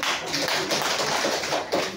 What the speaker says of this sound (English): Let's give 5 claps for the corn team.